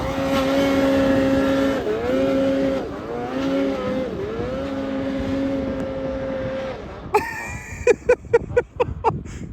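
A Polaris Matryx Boost snowmobile runs along a packed trail, its engine a steady close drone with brief dips in pitch, ending in a series of sharp, choppy bursts.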